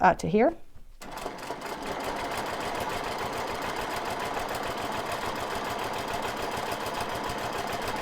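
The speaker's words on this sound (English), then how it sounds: "as I'm quilting, I'm looking at where I'm headed for" A sewing machine quilting a mandala quilt runs at a rapid, even stitching pace after a brief voice at the start, then hums and chatters steadily on its own.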